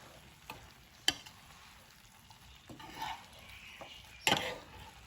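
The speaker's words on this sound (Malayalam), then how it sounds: "വെളിച്ചെണ്ണ ഒഴിച്ച് നല്ല പോലെ ഒന്ന് ഇളക്കാം." A Kerala meen peera fish dish being stirred in a pan after fresh coconut oil is poured in, with a faint low sizzle and a few sharp spoon taps and scrapes, no one speaking.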